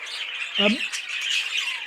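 A single loud, harsh bird squawk close by from an all-wire cage, set against continuous high-pitched chirping and chatter.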